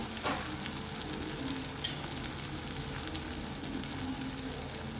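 Coriander and turmeric fry in hot oil, giving a steady, close sizzle with soft crackles and a brief stir or clink about two seconds in.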